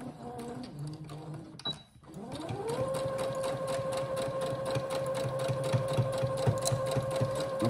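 A sewing machine stitching elastic, with a brief reverse backstitch to lock it, starts after a short pause and settles into a steady, fast mechanical whir with rapid needle ticking, close and continuous.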